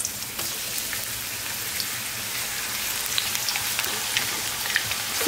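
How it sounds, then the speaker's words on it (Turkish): Zucchini fry in hot oil in a pan, giving a steady, close crackling sizzle with scattered sharper pops throughout and no voices. "Yağ ısındıktan sonra kabakları ters yüz edip kızartıyorum."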